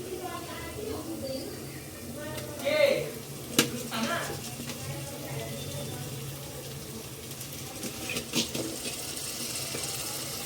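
Chicken meat (1.5 kg) goes into a hot pan for Nepali chicken palak, giving a steady sizzle with a few louder spitting bursts and clatters against a kitchen background.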